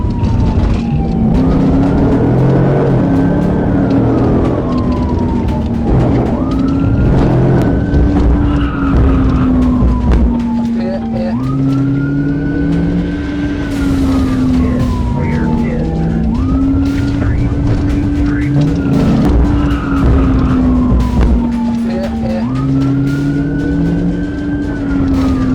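High-speed police pursuit of a fleeing car in Columbus: a loud, cycling wail of police sirens rising and falling every few seconds over roaring engine noise and intermittent tire squeals, close and continuous, with voices mixed in.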